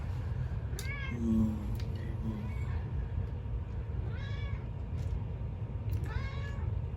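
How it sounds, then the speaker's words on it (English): A cat meows several times in drawn-out, rising calls, spaced a few seconds apart over a low steady hum. "our cat alarm clock is going off"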